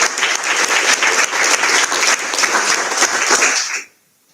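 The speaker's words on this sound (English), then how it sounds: "And that big round of applause" Loud, dense applause from an audience at a school board of education meeting honouring a staff member, sustained for several seconds before cutting off abruptly into silence.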